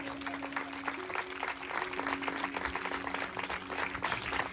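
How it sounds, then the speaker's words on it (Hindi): Applause from a congregation at a Christian revival meeting in Pakistan, a steady dense patter of many hands with a faint sustained tone beneath, moderately quiet and continuous throughout. "आइए यीशु मसीह के लिए जोरदार तालियां जाए।"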